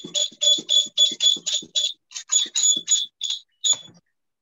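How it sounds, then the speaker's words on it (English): An earthquake alarm, shown working at a school exhibition, gives a rapid run of about a dozen shrill electronic beeps in a steady pulse before trailing off into a few spaced final beeps. "Now, I will show you the function of the earthquake alarm when the earthquake comes."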